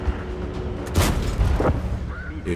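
A heavy, booming tank cannon shot in a tank video game, hitting a Tiger tank, lands over a dense layer of noise, with a second thud and a voice speaking nearby.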